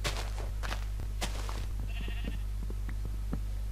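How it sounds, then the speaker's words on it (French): A sheep in the Minecraft video game gives a brief bleat amid faint clicks and a low steady hum from the gameplay. "Les deux moutons qui se retrouvent mais qui sont séparés par un mur de verre."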